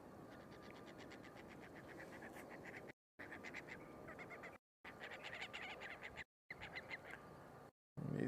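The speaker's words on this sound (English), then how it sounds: "These birds are getting quite noisy this morning." Geese honk repeatedly in rapid, overlapping bursts, faint and somewhat distant, with the sound briefly dropping out several times.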